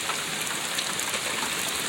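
Steady rain pours down outdoors where ducks and geese play, a dense, even hiss of drops on surfaces filling the whole stretch with no voices.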